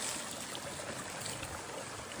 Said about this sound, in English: Stop by a stream to get water